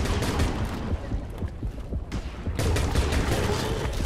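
Rapid gunfire in a video game, a dense stream of close shots that briefly thins in the middle and then resumes at full loudness.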